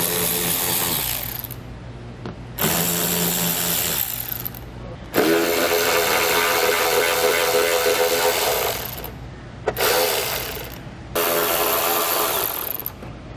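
Power tool driving an 8mm socket to remove bolts from a trim panel on a 2016 BMW during trailer hitch installation, loud whirring bursts starting and stopping in several runs with brief pauses between, close up.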